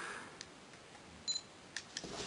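A Canon S100 compact camera fires intervalometer shots, a few faint, brief shutter clicks spaced irregularly over a quiet background.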